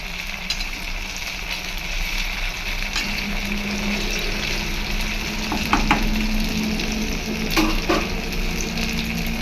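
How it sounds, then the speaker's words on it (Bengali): Soybean fritters fry in hot oil in a pan in a home kitchen, giving a constant loud sizzle with occasional clicks and spatters of utensils. "এইভাবে সবগুলো ভেজে নিয়ে আপনাদের দেখাচ্ছি"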